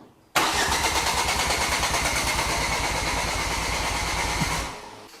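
A Mk2 Ford Focus RS engine cranking over with a rapid, even chugging rhythm from the starter, loud and continuous for about four seconds before winding down.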